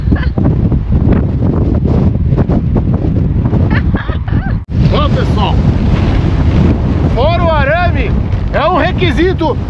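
Strong gusting wind roars and buffets the microphone on a roadside along Ruta 40 toward Ushuaia in Patagonia, loud and continuous, with a person talking over it and high whistling tones near the end.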